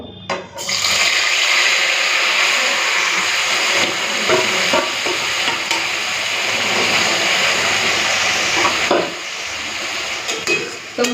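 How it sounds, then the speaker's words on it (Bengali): Marinated lotte fish sputters and sizzles in hot mustard oil, a loud, dense crackling hiss that flares up abruptly and runs continuously with scattered pops and stirring clatters, dipping briefly near the end. "সরষের তেলটা ভালো করে গরম করে নিয়েছি এখন এই মেরিনেট করে মাছগুলো দিয়ে দেবো"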